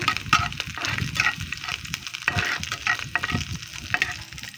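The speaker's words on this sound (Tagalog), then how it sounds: "Igisa-gisa lang po natin ang ating bawang." Garlic sautés in a pan, crackling and sizzling loudly up close while a utensil stirs and scrapes it in quick irregular bursts.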